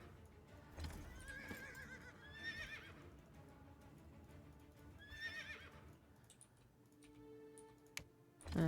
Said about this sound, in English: There's a horse over here.